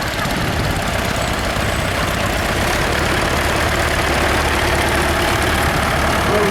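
Tractor engine idling in the arena at a spring fayre parade, a steady low rumbling drone throughout with constant outdoor crowd and ambient noise around it.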